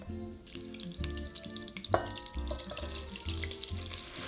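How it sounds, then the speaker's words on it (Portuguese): Onions for traditional French onion soup fry in melted butter in a pan, giving a steady crackling sizzle with soft popping throughout and no talking. "Você vai notar que a hora que a cebola cai na panela, fica um volume gigantesco."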